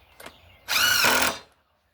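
A screw gun driving screws into a person door for a chicken coop whirs briefly, then runs in a loud steady burst for under a second before stopping, close by.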